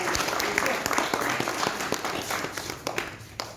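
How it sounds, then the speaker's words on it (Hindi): An audience applauding to welcome the chief guest at a book launch ceremony in a hall, a continuous wash of many hands clapping with a voice speaking faintly over it. "साथियों का तहनी के साथ तालियों से स्वागत करें"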